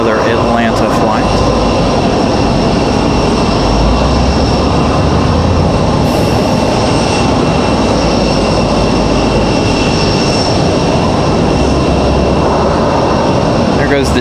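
At Raleigh-Durham airport a Delta airliner arrives with a loud, continuous engine roar and rumble that holds throughout, close by and strong, while a voice talks over it.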